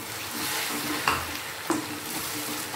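Chopped tomato goes into a pan of fried onions for a jackfruit curry, landing with two sharp clattering thumps over a steady, close sizzle of hot oil.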